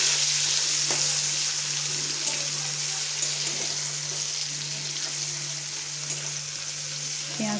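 Chopped onion and five-spice frying in hot oil, a continuous close sizzle with occasional light scrapes as it is stirred, over a low steady hum.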